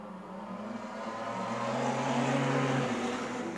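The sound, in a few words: wingless sprint cars racing on track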